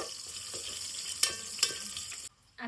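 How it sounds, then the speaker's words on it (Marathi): Spices and curry leaves crackle in hot oil for a village-style mutton dish, a close sizzle punctuated by two sharp pops before the sound cuts off abruptly. "फोडणी बघा कशी तडतडते"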